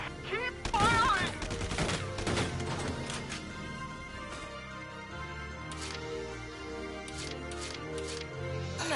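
Gunfire from a battle in the video game Valkyria Chronicles 4, with a loud burst of shots at the start and then steady crackling fire over a rumbling background, with a voice heard briefly.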